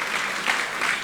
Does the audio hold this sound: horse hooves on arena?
no